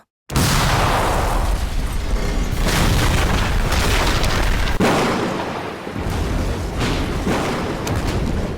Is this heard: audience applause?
no